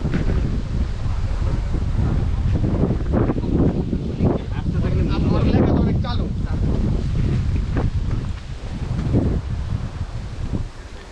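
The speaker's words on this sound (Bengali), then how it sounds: "অনেকটাই ন্যাচারাল বাতাস এখানে এর কারণে একটু শোর পাচ্ছেন আপনারা" Wind buffeting the microphone at Ruposhi waterfall in Sitakunda, Chittagong, a loud continuous low rumble with gusty swells and rustling over its full length.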